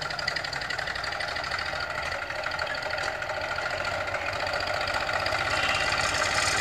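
A Massey Ferguson 1035 DI tractor, used with a wheat sowing machine, idles steadily at close range, its diesel engine giving a continuous rattling hum with no talk over it.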